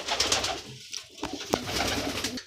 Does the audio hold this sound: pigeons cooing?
yes